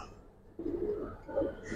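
A male pigeon gives a short, low, rolling coo, close by, after a brief quiet start.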